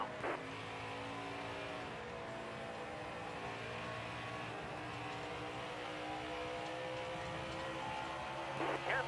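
A NASCAR stock car drones along the outside lap after lap at Dover International Speedway in NASCAR Heat 5, a steady sustained engine roar over constant running noise, with no talk over it.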